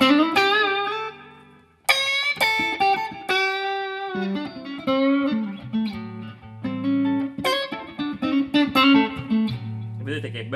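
An electric guitar played through a chain of three effects pedals, the tone knob rolled back for a softer sound: close, sustained single notes and chord phrases ringing out with rich overtones, alone without talk.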